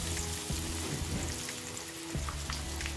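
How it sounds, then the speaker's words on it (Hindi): Eggplant slices fry in hot oil, filling the space with a dense, even crackling sizzle that carries close and steady throughout, with occasional stronger pops. "ये देखिए हमारा बैगन इतने अच्छे से फ्राई हो चुका है"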